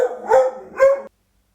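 A dog gives two loud, close, drawn-out howling barks in quick succession, then silence.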